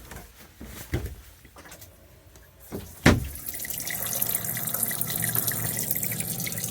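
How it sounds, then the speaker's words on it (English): Water gushes steadily from a sink tap, drawn off from an overfilled container, starting abruptly after a few quiet knocks and clunks and continuing as a close, even rush to the end. "Quickly let some water out."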